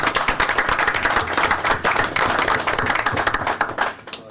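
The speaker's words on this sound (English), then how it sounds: "Give you a round of applause real quick." Steady, dense clapping fills a Kansas City council business session, with a small crowd applauding a local business owner continuously for about four seconds before it tapers off.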